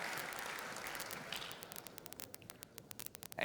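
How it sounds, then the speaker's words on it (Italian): Applause at an Italian tennis awards gala, the Veneto tennis gala, fading from a dense wash of clapping to scattered individual claps near the end. "Un bel applauso, ora arriva anche il premio."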